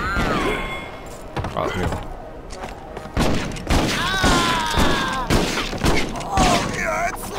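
Bursts of gunfire in the Western shooter game Red Dead Revolver, repeated rapid shots close by in several volleys, with a voice briefly speaking over the shooting.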